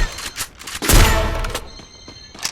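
Sniper rifle fire in a video game match: a loud, heavy gunshot blast near the middle stands out over lighter thumps and scattered game noise.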